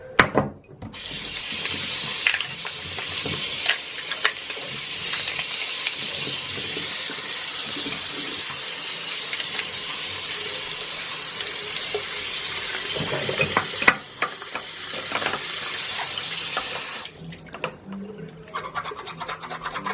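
Tap water runs steadily into a sink while make-up brushes are rinsed, a loud continuous splashing hiss lasting most of the time before cutting off near the end, with a voice speaking briefly underneath.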